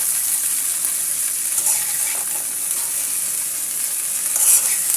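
Pui shak flowers stirred with onion and garlic in a hot pan, giving a continuous loud hiss of frying with faint scraping of the spoon, no talking.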